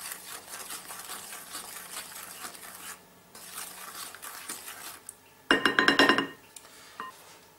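Sugar is stirred into melted unsweetened chocolate for brownies, a soft steady scraping of a spoon in a bowl, broken by a brief sharper burst of clinking against the dish toward the end.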